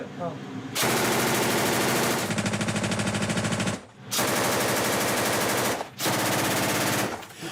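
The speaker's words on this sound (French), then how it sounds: "Et même une mitrailleuse lourde de l'armée soviétique." Soviet army heavy machine gun firing long, loud, sustained automatic bursts, three extended strings of rapid shots separated by brief pauses, close and dominating.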